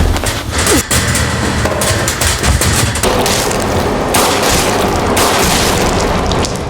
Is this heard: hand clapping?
no